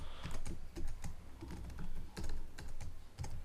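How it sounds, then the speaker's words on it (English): Rapid clicking of computer keyboard keys while someone types C# code for a billing system application, a busy, uneven stream of close keystrokes with brief pauses. "just type message box dot show"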